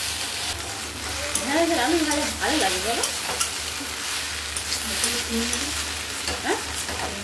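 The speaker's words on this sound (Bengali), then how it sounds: "ঢেঁড়স আলু ভাজাটাও হয়ে এসছে, তো ওটা এবারে নামিয়ে নেবে।" Okra and potato fry together in a home kitchen pan, a loud, close sizzle with scraping stirs, while a faint voice briefly sounds in the background.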